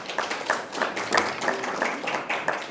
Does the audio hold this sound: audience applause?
yes